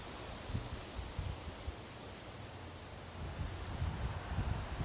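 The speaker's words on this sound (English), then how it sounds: "The wind is really starting to pick up." Steady wind blows outdoors at a cemetery as a broad, constant rush with low gusty rumbles buffeting the microphone, and no voices are heard.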